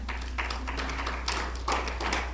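A church congregation at Misión Cristiana El Calvario claps hands in loose bursts over a steady low electrical hum, with irregular clusters of claps rising and falling through the room.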